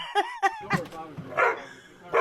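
A dog barks in several sharp bursts while attacking a car, its yips close and loud, followed by agitated rough vocal noise and a final bark.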